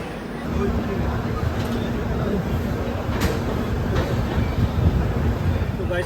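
Steady rumble and rattle inside a moving passenger train compartment at night near Asansol, continuous low rolling noise with faint clicks, people talking at dinner.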